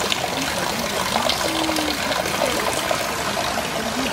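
Water from a spring runs steadily in a continuous trickle and splash, close by and even in level, with no voices over it.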